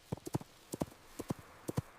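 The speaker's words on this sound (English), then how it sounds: "It is a horse." Horse hooves clip-clop in a steady walking rhythm, about a dozen crisp hoof strikes falling in loose pairs and groups, fairly close and clear with no talk over them.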